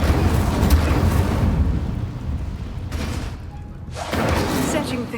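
Incendio fire spells cast in Hogwarts Legacy burst out as loud whooshing, roaring blasts of flame, one rumbling surge fading into a brief lull before another erupts.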